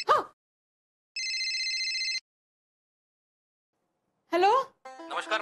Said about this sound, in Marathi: माझा फोन फोन वाजला